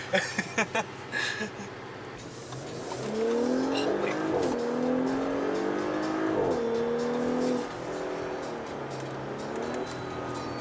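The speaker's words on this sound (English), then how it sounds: "Don't say it farts, it burbles." A 2018 Audi SQ5 Sportback's exhaust pops and burbles at first, then the engine revs and drones under a voice talking.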